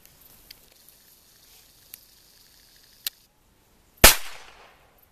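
One sharp, loud report from an Ekol Firat Magnum pistol, followed by a short decaying tail, preceded by a few faint handling clicks in an otherwise quiet space.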